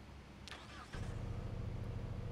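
Bugatti Divo engine in the video game Car Simulator 2: a starter whine and rising sweep, then the engine catches and settles into a steady low idle rumble, with no talk.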